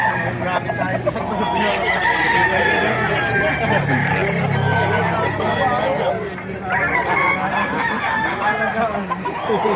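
Gamefowl roosters crow repeatedly at a busy chicken market in Baliuag, Bulacan, their calls rising over clucking hens and a constant hubbub of people talking nearby.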